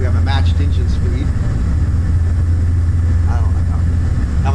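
Twin propeller aircraft engines running with prop sync on and matched speed, a steady, even low drone throughout while a person talks over it.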